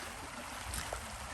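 Creek water flowing steadily at a lunch stop, with water levels down but some added flow after recent rain; a continuous, even wash of moving water fills the scene, with a brief brighter splash near the end.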